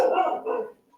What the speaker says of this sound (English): Again, sorry about the dog.